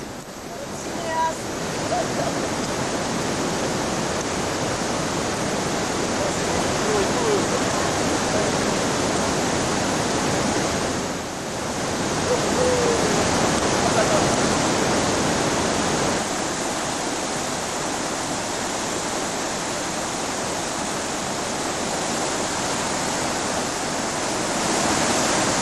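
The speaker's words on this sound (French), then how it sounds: "Après la traversée du torrent de la Valloirette" The Valloirette, a mountain torrent, rushes continuously with a dense, roaring wash of water, loud and steady throughout with no other sounds standing out.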